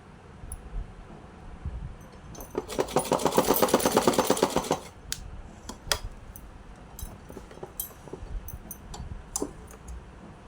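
A sewing machine stitching a small doll dress runs in a steady whirring burst for about two seconds, set among quieter clicks and handling sounds before and after, with no talking.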